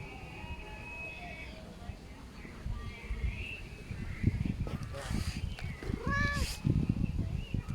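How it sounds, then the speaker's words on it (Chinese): A stray cat meows a few times outdoors, the cries rising briefly over steady background noise while people talk nearby. "那小猫咪"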